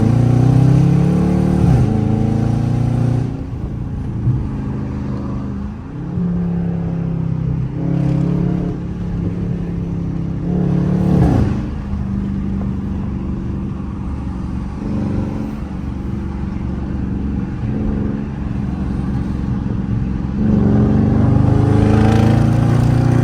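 A Dodge Charger R/T with a 5.7 engine makes loud, continuous engine noise through repeated highway and city acceleration pulls. The revs rise and fall close to the listener inside the car, with no talking.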